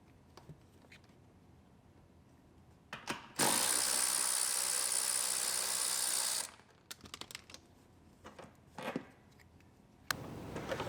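A ratchet works on the center console bolts of a 2017 GMC Terrain Denali, giving a dense, buzzing run of clicks for a few seconds, with scattered mechanical knocks and handling noises around it.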